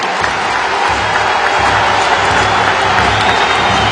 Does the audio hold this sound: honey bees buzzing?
no